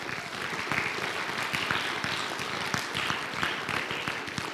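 Indoor crowd at a Scout troop Court of Honor claps for the troop treasurer, a steady, moderately loud wash of many hands with no voices over it.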